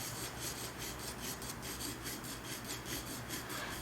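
Graphite pencil rubbing steadily across drawing paper as a soft shadow is shaded in, a close, quiet continuous rasp with a faint repeating stroke rhythm and no voices.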